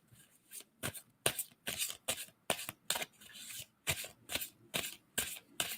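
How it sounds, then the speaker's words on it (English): Tarot cards shuffled by hand in a steady run of crisp riffling bursts, about a dozen in quick succession, close and clear with no talking. "And I'm going to stop shuffling on that."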